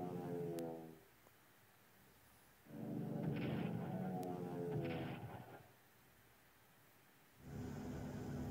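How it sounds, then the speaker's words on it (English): Airstrike explosions in a WW1 strategy video game roar as long, heavy rumbling blasts, two sustained bursts separated by quieter gaps, with a third starting at the end. "Oh, airstrike."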